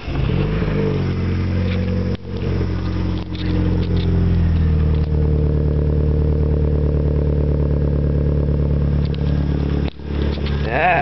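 A 1997 Daewoo Nubira manual car engine starts and idles steadily up close with a low, rumbling drone, briefly dipping twice as it settles into a continuous running note.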